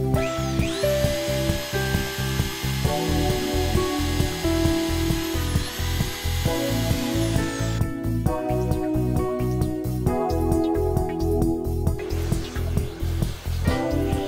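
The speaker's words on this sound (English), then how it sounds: "Next come the 15mm drilled hole for the cable aperture and the 3mm drilled hole for the actuator fixing screws." Power drill boring 15 mm and 3 mm holes into an aluminium lift-and-slide door frame for a Siegenia motorised system, a steady loud whining grind that runs continuously and shifts pitch partway through.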